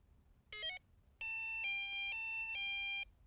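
Electronic beeping from a Korda carp fishing bite alarm as its colour settings are cycled: one short tone, a pause, then a longer sustained beep stepping through several connected pitch changes, close and clean without speech.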